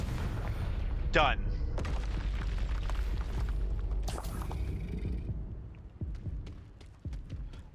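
Confringo spell blasts in the Hogwarts Legacy video game: booming explosive hits over a steady low rumble of combat, with a player talking over the game sounds.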